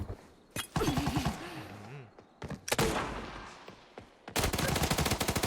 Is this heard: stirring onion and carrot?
no